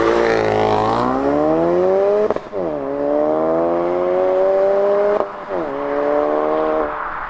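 Ford Focus RS Mk3 launching hard and accelerating flat out, a loud near engine climbing steeply through the revs with two quick gear changes breaking the pull, no talk.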